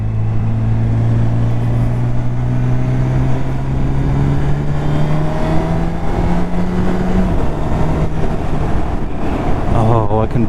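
A 2019 Honda CB1000R motorcycle accelerating hard through gears with a quick shifter, engine tone rising in long sweeps with brief drops at each shift, under loud wind roar and a rider talking.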